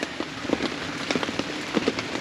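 Steady rain patters on a tent during a stormy night of camping beside a minivan, dense and close with scattered louder drops, no talk.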